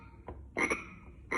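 A frog croak sound effect from a Yamaha keyboard, a short soft croak followed by two louder, raspy croaking bursts, close and clean with no talking.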